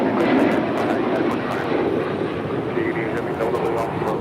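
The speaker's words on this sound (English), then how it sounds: "ABX Air taxiing over to 25 right for departure." An ABX Air cargo plane taxiing toward runway 25 right at LAX for departure, a steady, fairly loud jet-engine roar that holds throughout, with faint voices over it.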